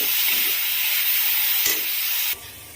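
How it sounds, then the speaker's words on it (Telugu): Grated carrot fries in a pan over a medium flame, giving a steady loud sizzle and hiss that drops abruptly to a quieter sizzle near the end. "క్యారెట్ తురుముని మొత్తాన్ని యాడ్ చేసుకొని ఇందులో పచ్చివాసన పోయేంత వరకు కూడా మనం స్టవ్ని మీడియం ఫ్లేమ్లోకి అడ్జస్ట్ చేసుకొని ఫ్రై చేసుకోవాలి"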